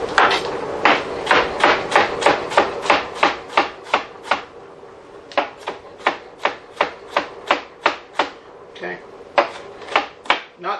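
A knife chops onion on a cutting board in a steady run of crisp, evenly spaced thuds, close and distinct, with a short pause partway before the rhythmic chopping resumes.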